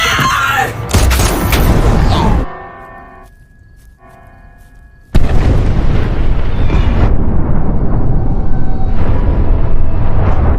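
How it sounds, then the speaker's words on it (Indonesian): A film scene's LPG gas tank blows up when shot, a loud broadband blast with heavy low rumble, a brief hush of ringing tone, then a second dense roaring surge sustained to the end. "Joe menembaknya, meledakkan dirinya bersama dengan Bambi."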